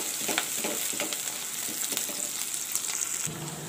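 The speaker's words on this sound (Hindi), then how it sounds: "प्याज को हम भून लेंगे" Chopped onions sizzle in a pan along with green chillies and curry leaves, a steady close hiss of frying broken by soft stirring scrapes, with no voices.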